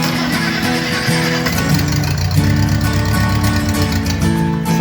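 A rebuilt sailboat outboard motor runs steadily at close range, a throaty, uneven engine chug with a Harley-like rumble that holds throughout without talk.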